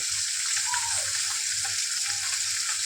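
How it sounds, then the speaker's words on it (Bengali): Small chuno fish sizzle steadily in hot oil in a kadai, a dense continuous crackle close up, with no talking. "মাছগুলো ভেজে তুলে রাখবো"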